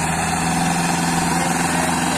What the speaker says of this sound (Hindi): सोनाली का टाइगर ट्रैक्टर है, 6 HP का ट्रैक्टर है